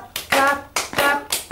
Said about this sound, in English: So we can clap our hands and make a sound.